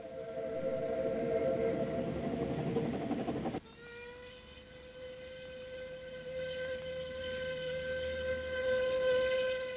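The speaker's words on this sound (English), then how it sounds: "Built in 1863, he's now the oldest steam loco in the world, still operating on its original line." Prince, the 1863 steam locomotive on the Ffestiniog Railway, carries a loud rumbling run that breaks abruptly into sustained, multi-toned whistle blasts, which hold steadily and swell again toward the end.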